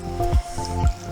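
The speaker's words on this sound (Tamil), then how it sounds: "உருளைக்கிழங்கு நிற்கிற மட்டத்தின் அளவுக்கு நாங்கள் உருளைக்கிழங்குக்கு தண்ணியை விடுவோம்" Water poured over 300 grams of cut potatoes in a cooking pot, heard as two short close squishy splashes and drips, with a faint steady hum underneath.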